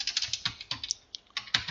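Quick keystrokes on a computer keyboard entering a folder name, a close, crisp run of irregular clicks with short pauses, no voices.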